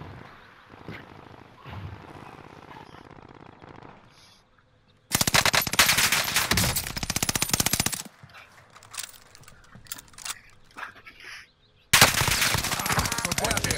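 Rapid automatic gunfire in the Call of Duty: Modern Warfare video game comes in dense, loud bursts separated by quieter stretches of game ambience and a faint voice.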